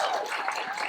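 Crowd applause, a dense steady patter of many hands clapping at moderate volume for the whole moment, with no break.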